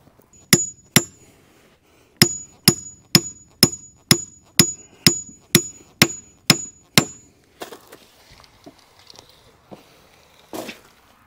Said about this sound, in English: Hammer a pin in there.